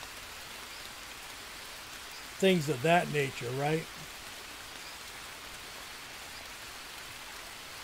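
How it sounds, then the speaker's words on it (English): Steady rain falls in the jungle survival game Green Hell, a soft continuous hiss throughout, with someone briefly talking over it midway. "So on this, you can dump in dirty water, but the rain fills it up."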